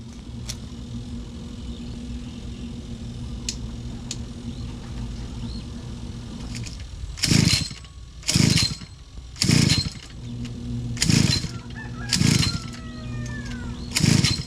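A grass cutter runs steadily nearby outdoors, a constant low engine drone that swells into repeated loud revving bursts as it cuts, with no talk over it.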